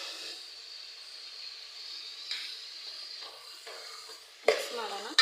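A field bean curry stirs and fries in a pan, with a soft continuous sizzle, a few scraping strokes and a sharp clatter of the spoon near the end.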